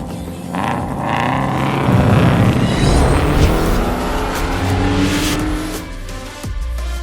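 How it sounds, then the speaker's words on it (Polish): A BMW M3 Touring drives with a loud, sustained engine roar that swells and eases as it accelerates, heard up close with rumbling low tones throughout before a brief drop near the end. "Przewiozę was dzisiaj BMW M3 Touring na grubasie."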